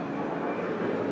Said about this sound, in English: great, military chopper going by.